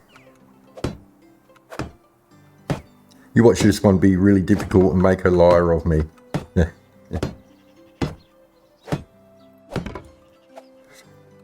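Hammering a wooden fence post into the ground in the medieval life-sim game Medieval Dynasty, about a dozen sharp, evenly spaced thunks, loud and close, with someone talking in the middle.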